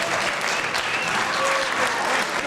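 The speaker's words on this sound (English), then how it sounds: "let's give one last round of applause to the Hermes Expo, the Paul, and his family" Sustained, even applause from a large crowd at the Hermes Expo International closing, loud and continuous throughout with no break.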